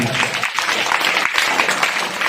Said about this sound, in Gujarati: અને એના માટે ફરીથી એક વખત તાળીઓ